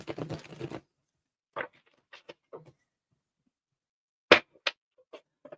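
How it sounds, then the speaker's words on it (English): Tarot card deck being shuffled by hand in a few short, separated bursts of riffling and card slaps, fairly close and moderately loud, with a brief moment of speech at the very start. "So hard to shuffle some of these."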